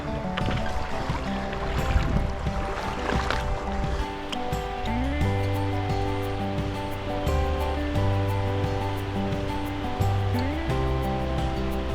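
A river in France, running high and coloured after a thunderstorm, rushes along in a constant broad wash of water, with music playing over it.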